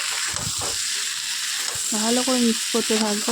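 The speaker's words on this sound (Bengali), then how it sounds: "এর মধ্যে আমি দিয়ে দিলাম পটল আলু আর চিংড়ি যেগুলো ভেজে রেখেছিলাম, সেগুলো সবটাই দিয়ে দিলাম। দিয়ে আমি ভালো করে মিক্স করতে থাকবো" Pointed gourd, potato and fried shrimp stirred through spices in a sizzling pan, a steady frying hiss with scraping stirs, while a voice speaks briefly over it near the end.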